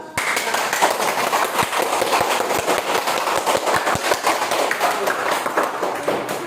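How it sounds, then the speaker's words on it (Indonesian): A class claps together, a dense burst of applause with sharp individual claps standing out, steady and loud for several seconds. "Kebetulan kita tepuk tangan dulu lah"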